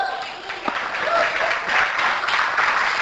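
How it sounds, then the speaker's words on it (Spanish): A church congregation breaks into applause, a dense, sustained clapping from many hands that swells and carries on, with a voice speaking over it. "si le va a aplaudir, apláudale bien"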